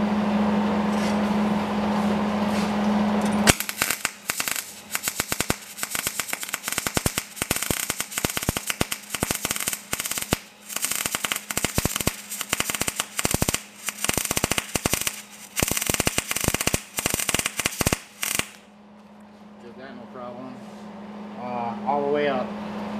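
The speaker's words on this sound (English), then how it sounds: "I've never ran a welder at that setting on a single generator on wood gas ever." An arc welder turned all the way up, run on a Predator 9500 and 8750 generator pair in parallel on wood gas from a single gasifier, giving long bursts of loud sputtering crackle over a steady engine hum, with talk before and after.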